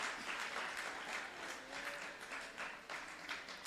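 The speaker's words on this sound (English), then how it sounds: "Can we give him another round of applause?" Audience applause at a graduation ceremony, steady clapping from a crowd that keeps an even level throughout, sounding somewhat distant and moderately quiet.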